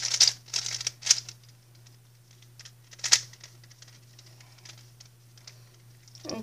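A Gan 356 Air SM speedcube is scrambled, giving a few quick bursts of sharp plastic clicking and turning, then lighter, scattered clicks over a low steady hum.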